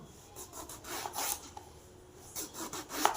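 Knife slicing a large brinjal in a home kitchen for a Tamil brinjal fry, giving a few soft scraping, rasping cuts at close range with brief sharper knocks near the end, no talking.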